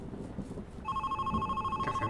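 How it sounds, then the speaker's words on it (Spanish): Telephone ringing in the video game The Red Strings Club, a steady electronic tone that starts partway through and rings continuously, fairly loud over a low background hum. "¿Contesto al teléfono?"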